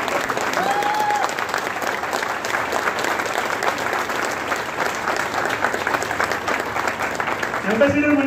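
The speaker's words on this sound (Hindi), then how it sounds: "सब लोग खड़े होकर तालियों में बजाइए सब लोग" A standing audience at an IMC business event in Mumbai applauds a senior director, dense sustained clapping throughout, loud and close, with a brief voice near the end.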